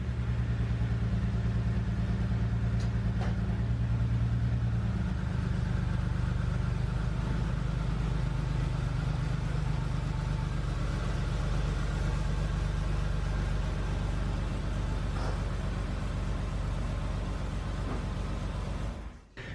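A car engine idling and rumbling steadily near a garage, low and continuous with slight revving swells, a faint metallic clank early on, then cutting off at the end; no talk.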